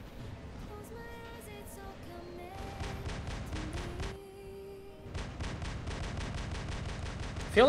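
Molot guns firing in War Robots, loud, fast regular bursts of mechanical shots in two long runs split by a short pause, with a tonal game sound weaving through and a louder hit at the end.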